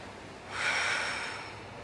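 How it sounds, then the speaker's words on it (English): A deep, airy breath taken during a yoga flow, rising and swelling for about a second before easing off, close and soft, with no talking. "Take a spacious breath."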